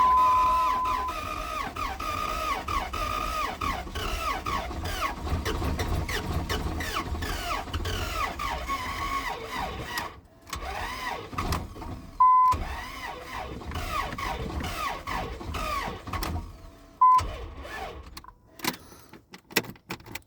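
A 2002 Ram 1500 pickup with the 4.7 engine cranks repeatedly, trying to run but not catching, a steady rhythmic starter churn with brief pauses, beeps and chimes, close and moderately loud.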